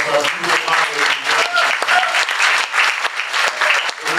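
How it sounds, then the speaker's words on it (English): A crowd applauds at the close of a mayoral forum held in a Baptist church. The clapping is full and sustained with a few individual hand claps standing out, and voices murmur and talk beneath it. "Please give a warm round of applause for our people"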